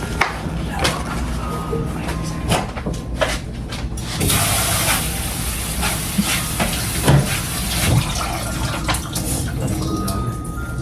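Food is rinsed under a kitchen tap during party meal prep: steady running-water hiss starts about four seconds in and continues, with scattered clatters and handling knocks close by.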